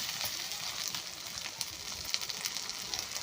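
Ground chili paste sizzles and fries in hot oil in a pan for Bengali egg curry, a soft, steady hiss with small crackles, close and quiet with no talking.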